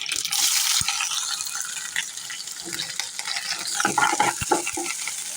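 Onion, green chili and curry leaves fry in a pan with a loud, close, steady sizzle, stirred with scraping and occasional sharp clinks of a utensil, no voices heard.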